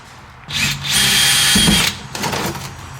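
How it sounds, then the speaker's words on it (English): Power drill boring a hole in a vehicle fuel tank, a loud close whine that starts abruptly, holds steady for over a second, cuts off, then returns briefly at lower strength. "We're gonna drill a hole, let the gas drain out"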